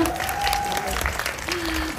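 An audience claps steadily at a movie VIP screening event for Wonderland, dense applause from a crowd with a voice speaking over it.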